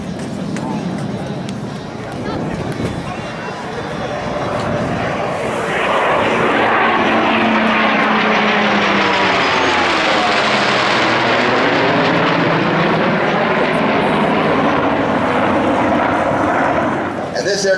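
Navy F/A-18 Super Hornet jet and a vintage F4U Corsair propeller fighter at an air show: a loud aircraft roar swells from about six seconds and sweeps past with a rising and falling Doppler pitch, then holds steady and loud.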